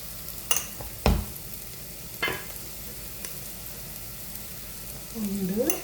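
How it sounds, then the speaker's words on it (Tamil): Onions sauté in a pan for fish curry as spice powder goes in. A steady, close sizzle runs throughout, broken by a few sharp spoon knocks against the pan and a brief vocal sound near the end. "வெங்காயம் நல்லா வதங்கி கொண்டு வந்துட்டுது. இப்போ தூளை போட போகிறேன்."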